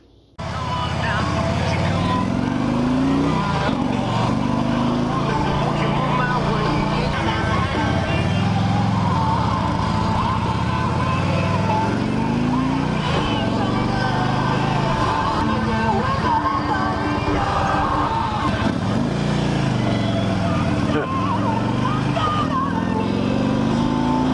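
A 2008 Harley-Davidson Ultra Classic Electra Glide rumbles steadily while riding on a nice day, its engine drone rising and falling with throttle changes under constant wind rush, with a voice talking at times.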